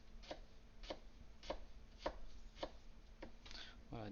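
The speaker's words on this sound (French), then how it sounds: "et après je vais venir hacher ça grossièrement avec la lame par-dessus" A knife chops garlic coarsely on a board for tofu pad thai, about seven crisp, evenly spaced strokes roughly every half second, close and clear over quiet room tone.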